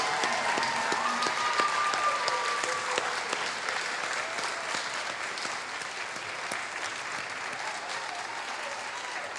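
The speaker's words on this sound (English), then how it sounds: "Huge round of applause." Audience at a student film festival awards screening giving a long, dense round of applause for the young filmmakers, sustained clapping that gradually eases in intensity over nine seconds.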